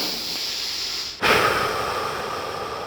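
A single deep breath drawn during a calming breathing exercise, starting abruptly at about the midpoint as a close, airy rush that stays steady to the end, with no talking.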